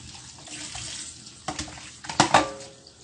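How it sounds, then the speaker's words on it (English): Tap water running into a kitchen sink while a scaled, cleaned fish is rinsed under it, a steady splashing stream swelling into louder bursts near the end. "we're just gonna go ahead and have that rinsed out."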